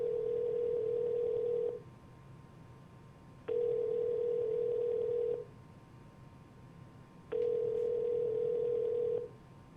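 A phone call rings out over the line: three long, evenly spaced ringback tones, each about two seconds with pauses between, clear and moderately loud with no talking.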